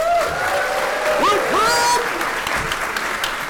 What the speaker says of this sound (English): how about another round of applause for everybody in here?